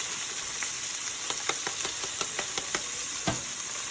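Beef mince for samosa filling sizzles in a pan of fried onions, a steady close frying hiss with scattered crackles and pops throughout.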